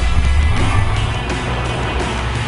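Car stunt driving in wet, hazardous conditions, with a loud, close engine roar and rumbling road noise that hold steady throughout.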